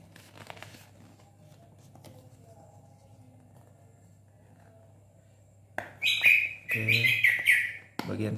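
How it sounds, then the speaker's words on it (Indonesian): A bird breaks into loud, bright chirping close by after several seconds of near quiet, its calls coming in quick repeated bursts over a low background hum. "Ada suara burung"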